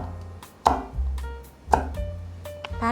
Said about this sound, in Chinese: 把辣椒切成辣椒圈。